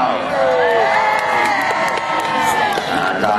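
A crowd at a jousting show at the Lincolnshire Show cheers loudly and continuously, with children shouting and whoops in the mix.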